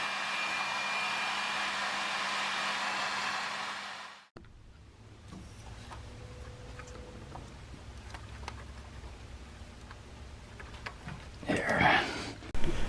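A heat gun blows a steady, even broadband rush for about four seconds while warming a part on a Honda Civic Hybrid during starter work, then cuts off abruptly, leaving quiet workshop clatter.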